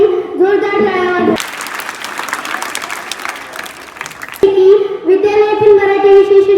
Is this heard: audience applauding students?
yes